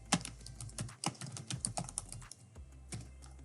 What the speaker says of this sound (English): And type really loud.